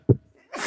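A single short sneeze, close and moderately loud, followed by a breathy exhale or sniff, during a live wrestling watch-along stream.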